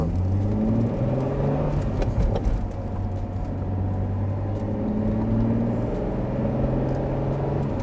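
Ferrari Testarossa pulling away, its engine a steady close rumble and whir with rising harmonic tones as it gains speed, continuous throughout with no talk.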